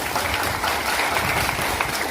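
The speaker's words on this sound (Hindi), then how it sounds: "तालियां होनी चाहिए इनके लिए।" Audience applauding at a business event honouring a customer, a dense, even roar of many hands clapping together, steady throughout and moderately loud, with no voices over it.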